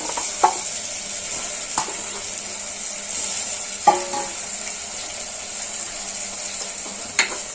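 Washed paya (goat trotter) pieces frying in a hot pan, a constant bright sizzle with a few occasional scrapes and knocks as they are stirred.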